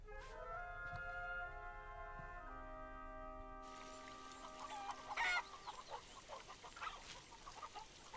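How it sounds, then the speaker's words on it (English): A mother hen clucks near her chick, with soft clucking and a brief louder squawk over a background of rustling outdoor noise after a sustained tonal drone fades. "This is the mother hen, and this is the baby."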